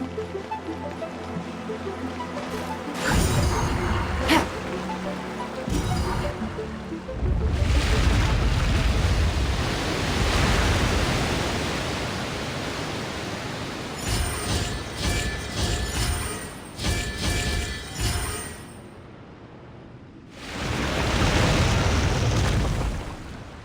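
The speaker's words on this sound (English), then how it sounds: "The water's flowed into the groove, and now the statues have lit up." Water rushing and flowing into a stone groove during a puzzle in the Genshin Impact video game, a broad sustained surging wash with swelling and fading stretches and a brief quiet gap before a final loud surge.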